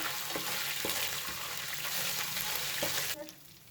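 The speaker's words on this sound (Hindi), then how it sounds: "ये 2 इंच के दालचीनी के पीस हैं ये डालेंगे। इनको थोड़ा सा फ्राई करके" Two-inch cinnamon pieces and cardamom frying in oil for beef korma, a steady sizzle with a few sharp clicks of stirring before it drops off suddenly near the end.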